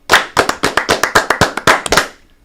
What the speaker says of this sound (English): So we'll do 8 claps for all 4 of those guys.